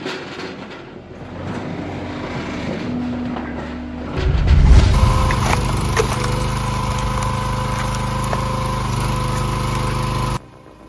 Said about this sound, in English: The hydraulic log splitter with a 4-way splitting wedge is the ultimate solution for high-performance wood processing.